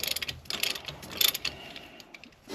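A ratchet works on a bolt in a 1966 Mustang, giving quick bursts of close metallic clicking that fade to quieter rattles toward the end.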